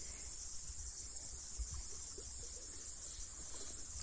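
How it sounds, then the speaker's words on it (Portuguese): Steady flowing water of a riverside stream near a waterfall, heard as a constant faint broadband rush with a hissy high band, uninterrupted and alone without talk. "Vou estar deixando vocês ouvir esse barulhinho maravilhoso aí da água"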